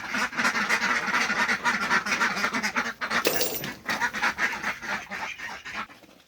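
A flock of ducklings quacks constantly, many overlapping calls in a loud, busy chatter with brief rustling.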